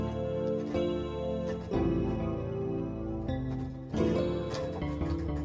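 Synthesized music drenched in heavy delay and reverb, with sustained harmonic tones and chords that smear and echo into one another, moderately quiet and playing alone without talk.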